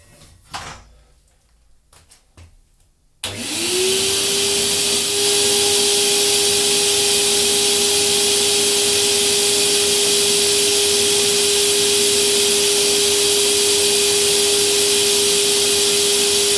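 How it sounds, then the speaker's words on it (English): A vacuum cleaner switches on after a few quiet knocks and roars steadily and loudly, its motor whine rising briefly before settling into a constant drone, used to suck aramid fibres through a lathe. "vacuum cleaner."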